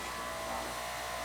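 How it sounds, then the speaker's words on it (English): An automatic sewing machine hums in a steady, continuous buzz while reinforcing raw denim jeans, close and moderately loud with no pauses. "This is an automatic sewing machine, so it's leaving all these little threads"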